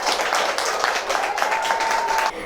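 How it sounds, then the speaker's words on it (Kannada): An audience at a preschool summer camp event applauds a children's dance team with dense, continuous clapping that stays loud and full throughout, ending abruptly, with a faint high tone running beneath. "ಸೊ ಇವ್ರ ಟೀಮ್ಗೆ ಒಂದು ಜೋರಾದ ಚಪ್ಪಾಳೆ."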